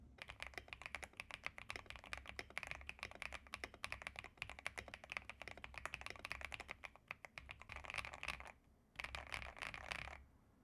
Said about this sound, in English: This is the keyboard I'm giving away, the Ajaz AK820 with PE foam, tape mod, and Gateron smoothies.